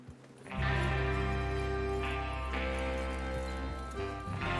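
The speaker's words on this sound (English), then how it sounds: "Get your horses ready." Horses clip-clopping along in the Red Dead Redemption 2 video game, steady hoofbeats running throughout under loud sustained game music.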